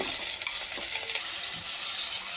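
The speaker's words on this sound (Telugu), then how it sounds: "ఇలా ఫ్రై అయ్యాక కరివేపాకు కొంచెం వేస్తాము, కొంచెం ఫ్రై చేస్తాము." Stuffed brinjal sizzles loudly in a pan with curry leaves, a continuous bright crackling hiss of hot oil with faint stirring clinks, no voices over it.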